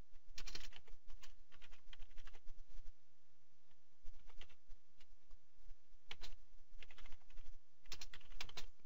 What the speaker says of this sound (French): bon là je la tape, je vais essayer de ne pas faire d'erreur